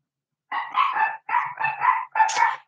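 Two toy poodles barking indoors at home: five sharp yips in three quick clusters, close and fairly loud, with no talking.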